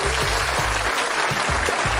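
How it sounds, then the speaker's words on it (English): An audience gives a round of applause for a guest on a 49ers talk show. It is a dense, steady clatter of clapping across the whole stretch, with a low rumble underneath. "let's give that man a round of applause"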